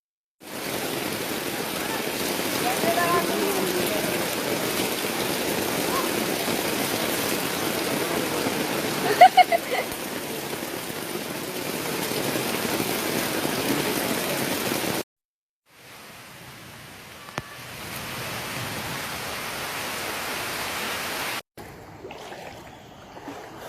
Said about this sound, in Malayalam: നോക്കിയ നമ്മള് മഴയെല്ലാം പെയ്യുന്നുണ്ട്